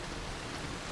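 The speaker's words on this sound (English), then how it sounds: "Only with our heads above water did we discover it was raining." A dense, even hiss of rain falls over Lake Como, close and continuous with no other sounds breaking through.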